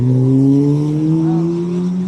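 Cars at a car meet rev hard nearby, the loud engine roar holding steady and climbing slightly in pitch as the throttle is held.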